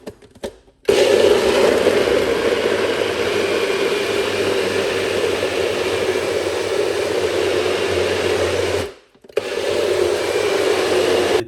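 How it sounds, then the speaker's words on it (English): A Ninja Bullet blender blending pineapple, beetroot, ginger and lemon juice whirs loudly and steadily for about eight seconds, briefly cutting out near the end before starting up again. "we're gonna make a little bit of a noise by blending it up"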